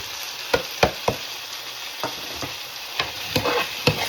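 Saltfish fries in seasoned oil with onion and pepper, a steady bright sizzle broken by several sharp scraping stirs of a spoon at irregular intervals, close and alone without talk.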